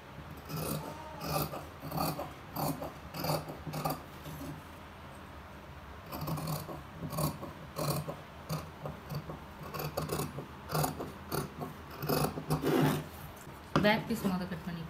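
Scissors snip through fabric while a pavadai dress is cut out, giving a rhythmic run of crisp rasping cuts in bursts, close by, with pauses and a louder scrape near the end.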